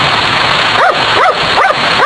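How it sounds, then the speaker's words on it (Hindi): A synthetic dog barking in the rain, with four evenly spaced yelping barks over a steady hiss of rainfall that fills the whole stretch. "जो दूसरा साउंड है the dog is barking in the rain"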